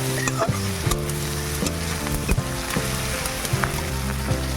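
Prawns fry with onion and green chilli in a wok, the constant hiss of oil joined by repeated scraping and tapping as a spatula stirs them, close and busy.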